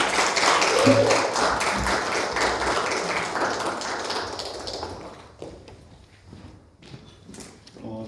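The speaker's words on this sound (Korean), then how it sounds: "박수로 좀 저희 맞이했으면 좋겠습니다" An audience at a campus church gathering applauds to welcome a newly appointed professor, steady clapping for about five seconds that then fades into a few scattered claps and quiet room noise.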